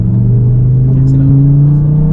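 A compact performance car in an Audi RS3 versus Mercedes A45 S comparison accelerates, heard from inside as a loud, steady engine drone with a slowly climbing tone and no break over two seconds.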